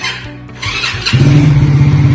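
A 100cc Crown fully automatic motorcycle, Shari edition, starting up close by: a brief cranking burst quickly catches into a loud, steady thumping idle, with no talk.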